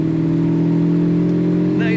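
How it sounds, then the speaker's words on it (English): A 1969 Plymouth GTX, a big-bodied muscle car, gives a steady, throaty exhaust drone at close range, holding an even note for two seconds with a brief higher rise near the end. "Nice throaty exhaust note."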